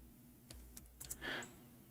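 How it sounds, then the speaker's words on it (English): Typing on a computer keyboard, a few quiet, close key clicks spaced irregularly over a faint steady background hum, with no voices. "We are typing in English letters."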